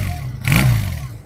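Used Honda 200cc motorbike engine revving up briefly in a Karachi used-bike market, a loud mid-pitched surge rising and easing back toward idle within about a second.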